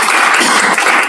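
Loud, dense applause from an audience at a relaxation and hypnotherapy session, a continuous close wash of many hands clapping with no break.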